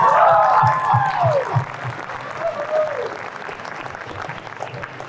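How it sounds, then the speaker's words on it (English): Fan convention audience at a Goofy Movie panel in Anaheim breaks into applause. Clapping runs under a voice and cheering, starts loud and gradually softens. "Round of applause."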